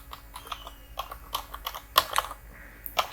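Computer keyboard keys click in quick, uneven bursts, a close series of sharp taps with brief pauses between them, heard alone.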